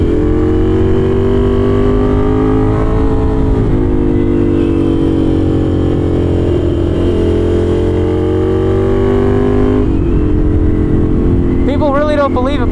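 A V-twin Scrambler motorcycle with a very loud exhaust revs hard up close, a thick, continuous roar that rises and falls in pitch, with shifts around the fourth and tenth seconds.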